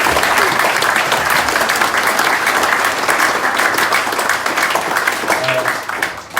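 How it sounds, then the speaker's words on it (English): A room of diners at an end-of-season club dinner gives a warm round of applause, continuous dense clapping with some cheering, holding steady then tapering off near the end. "So I just like everyone to give a round of applause to the boys for their work rate."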